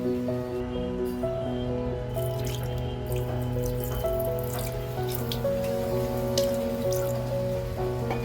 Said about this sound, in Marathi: पाट्याला व्यवस्थित आणि स्वच्छ धुवून घ्यायचं आहे.